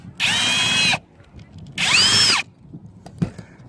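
A power drill spins out screws from an RV tank vent in two short whirring bursts close by, each under a second. Faint clicks and handling noises follow.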